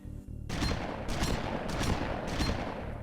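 Pump-action M90 shotgun from an early 1999 Halo build fires in quick succession, several heavy booming blasts each about every 0.7 seconds over a loud, dense, sustained wash of noise.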